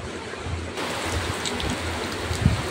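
Rain falling steadily as a soft, even hiss that stays unbroken throughout, with a faint low rumble underneath and one brief louder patter near the end; no voices.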